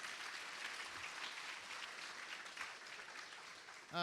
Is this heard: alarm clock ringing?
no